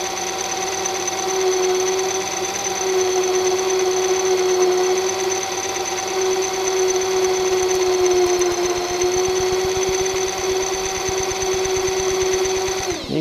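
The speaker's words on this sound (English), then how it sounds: "start drilling some material out" A drill bit bores steadily into a round metal surface, giving a continuous close whine with a fine rapid chatter underneath that holds evenly for over ten seconds.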